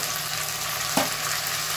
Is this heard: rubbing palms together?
no